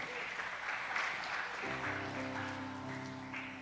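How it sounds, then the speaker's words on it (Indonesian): Applause from a church service congregation, a broad steady patter that then gives way to sustained keyboard or band chords in the second half. "kasih tepuk tangan buat semuanya"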